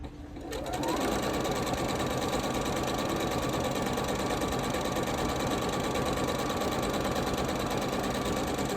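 A sewing machine runs steadily while Irish Chain quilt blocks are stitched, its fast even whir starting within the first second and holding close and loud without a break.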